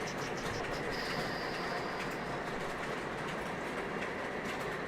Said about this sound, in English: The passenger cars behind the Pacemaker Mohawk right now are MTH.